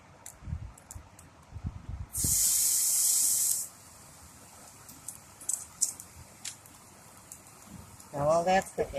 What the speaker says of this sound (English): So I'm just going to sear this a little bit